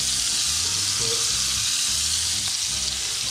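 Butter sizzles and spits steadily as a sous-vide steak sears in a hot pan, a dense, continuous frying hiss close up with no talking.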